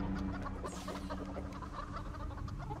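Chickens clucking in the Family Guy video game, a steady, faint flock chatter over a constant low background hum.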